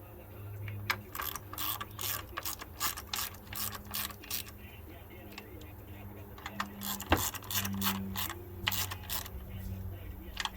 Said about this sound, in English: This is where the speed wrench is kind of nice.